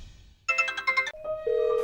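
A mobile phone ringtone chirps a quick pulsing run of electronic tones, then shifts into steady higher beeps, clear and fairly close with nothing else over it.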